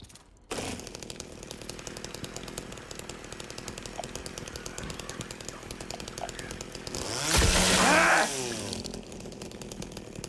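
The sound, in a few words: chainsaw revving in video game Silent Hill 2 Remake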